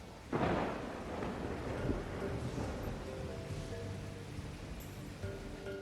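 Thunder during a torrential rainstorm over a New York skyscraper construction site, the One Bryant Park tower, opens with a sharp crack that rolls into a long, heavy rumble over steady rain noise, with no voices.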